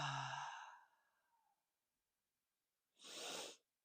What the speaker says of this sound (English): You can take a deep breath with me now. In through the nose and out through the mouth.